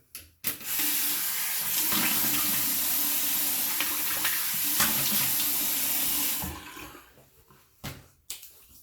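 Tap water runs steadily from a faucet into a sink while someone rinses off after a shave with a shavette razor, a loud continuous splashing rush that stops abruptly near the end, followed by a few faint clicks and drips.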